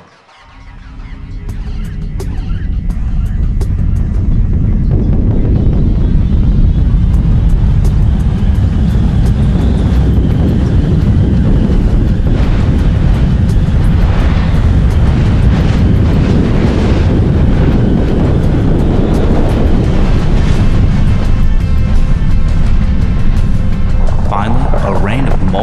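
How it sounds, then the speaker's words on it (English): Impact shockwave and blast front as a deep, loud rumbling roar that swells in over the first few seconds and then holds as a sustained, turbulent low-end thunder, with faint crackles over it. "The shockwave arrives. Next comes the blast front."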